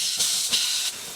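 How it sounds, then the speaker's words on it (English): A steam train lets off a loud, close hiss of steam in Feilding, swelling in two short pulses over about a second. "this is the first time the steam train has come to Feilding"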